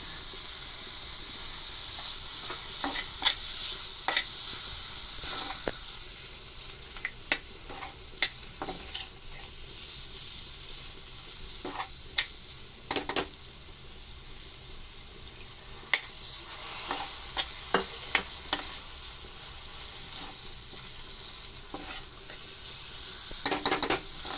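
Tomatoes and salt frying in a pan for a brinjal curry give a continuous close sizzle and hiss, broken by frequent sharp stirring clicks and scrapes.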